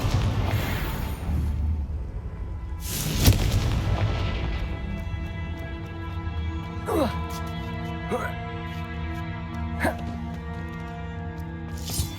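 Confringo blasting spells going off in Hogwarts Legacy: one heavy explosive burst early, then several sharper blasts spaced a second or two apart over a background music bed, with a voice speaking between them.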